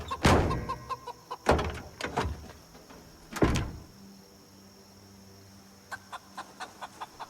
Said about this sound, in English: Gotta establish dominance over these chickens.